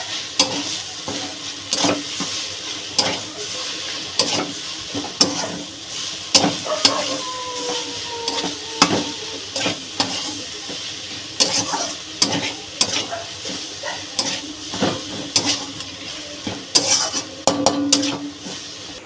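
Chechi greens with a little sugar fry in a pan with a low hiss, while a spatula stirs and scrapes against the pan in quick, uneven strokes, close by and with no voices.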